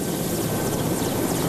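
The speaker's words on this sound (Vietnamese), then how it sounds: "Việc thử nghiệm thành công đáp trực thăng ngay trên nóc của viện đã mở ra triển vọng đề án cấp cứu bằng trực thăng" A helicopter landing on a hospital rooftop helipad, with a loud, steady rotor and engine roar filling the whole moment, close and continuous with no voices.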